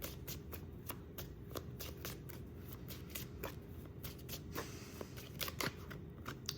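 Tarot cards shuffled by hand, a close, steady run of crisp riffling and flicking bursts repeating without talk.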